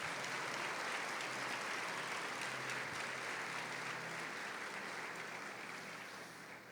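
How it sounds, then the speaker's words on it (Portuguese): A church congregation applauds during a Sunday communion service. The clapping is soft and sustained, as if heard from across the hall, and slowly fades over several seconds. "Você pode aplaudir a Jesus por essa palavra?"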